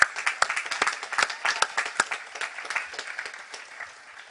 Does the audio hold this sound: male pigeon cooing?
no